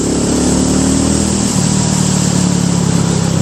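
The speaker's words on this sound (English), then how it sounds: "It's a wonderful little engine, and it's super smooth." A BSA Gold Star single-cylinder motorcycle engine, exhaust baffle removed, idles steadily nearby with a smooth, even low thrum, no revving or voices.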